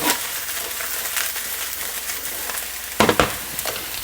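Chicken and eggplant stir-fry sizzles in a lightly oiled pan with sesame oil, a steady close frying hiss broken near the end by a few sharp spatula clatters and stirring knocks, no talking.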